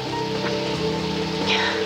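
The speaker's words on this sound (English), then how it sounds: "It's raining. You'll get wet." Steady rain falling outdoors in a 1997 daytime soap scene, a continuous hiss with dense patter over a low background hum, with no speech over it.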